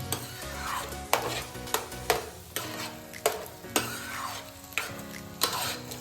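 Egg and pepper powder fry in a pan for egg rice, a steady close sizzle broken by sharp scrapes of a spatula stirring roughly once a second.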